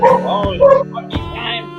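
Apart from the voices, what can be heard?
border collie barking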